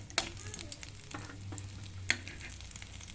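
Bread pieces fry on a low gas flame until golden brown for a restaurant-style tomato soup, a soft sizzle with a few sharp pops and stirring scrapes, fairly quiet and close.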